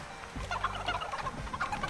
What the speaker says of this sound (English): All the chickens are trying to get me.